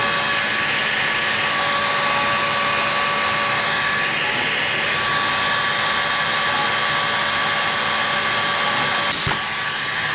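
Heat gun blowing hot air onto a drive part of a Kraft 61 radio-control transmitter, a steady loud whooshing roar with a constant electric whine, running alone for about nine seconds before a brief knock near the end.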